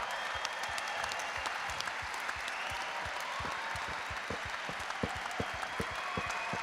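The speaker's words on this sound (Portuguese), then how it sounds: "Queria dar um aplauso agora para as mulheres que estão neste lugar aqui." An audience at a gathering applauds the women present, steady massed clapping with individual sharp claps standing out, continuous and fairly close with no talking.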